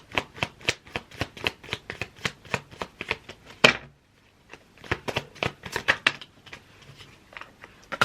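Tarot cards shuffled in a steady run of crisp riffling flicks, a brief louder snap partway, then a pause before another looser burst of shuffling, close and clear with no voices.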